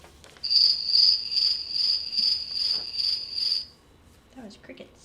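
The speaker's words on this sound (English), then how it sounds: "That was crickets." Crickets chirp in a steady pulsing rhythm of bright repeated trills for several seconds, fairly close and clear, then stop as faint voices and movement follow.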